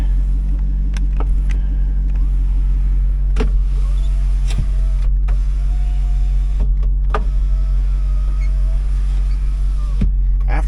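Electric window regulator in a 2005 Chevrolet Corvette C6 LS2 hums steadily over a low idling engine rumble, with several short clicks and motor whirs spread through the run, fairly close and loud.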